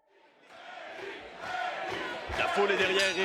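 A boxing crowd cheers for Erik Bazinyan at a fight, the roar swelling from quiet to loud with shouts and whistles, a commentator's voice speaking over it.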